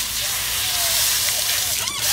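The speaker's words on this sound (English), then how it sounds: "So here, I'll literally just rinse it down." Water hose rinsing down mobile car-detailing gear such as towels and brushes, a steady close hiss and slosh of spray lasting a couple of seconds.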